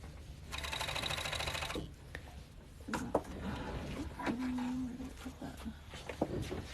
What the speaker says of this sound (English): you just kind of sew like a big piece of fabric